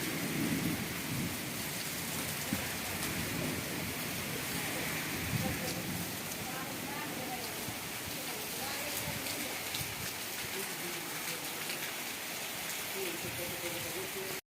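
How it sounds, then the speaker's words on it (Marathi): Heavy afternoon downpour hisses steadily on a farm throughout, with low thunder rumbling beneath the dense rain noise. "आता विजाचा आवाज येईल कडकडाट."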